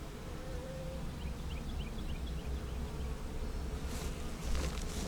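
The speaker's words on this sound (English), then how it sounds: "See all the other bees getting around her." Honeybees hum steadily around their queen in a dense, continuous buzz held close and fairly loud, with a few brief brighter rustles near the end and no talking.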